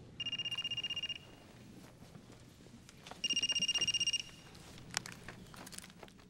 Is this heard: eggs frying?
no